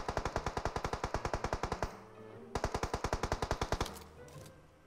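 Two long bursts of rapid automatic gunfire from the shooter game PUBG, sharp evenly spaced shots separated by a short pause, with the second burst fading into a quieter tail.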